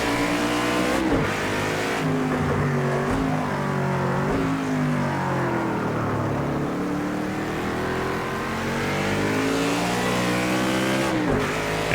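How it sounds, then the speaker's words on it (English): A Chevrolet GTO-class race car in Project CARS 2 on cold tires, its engine roaring steadily and loudly as it revs up and down through the gears, with a brief tire squeal and no talk. "Car gets pretty lively under acceleration with cold tires."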